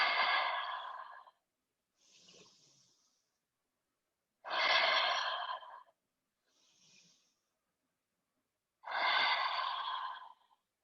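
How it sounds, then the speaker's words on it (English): Slow yoga breathing during a downward facing dog: three long, loud breaths, each answered by a short, faint one, spaced evenly and alone with no talk. "Breathing here."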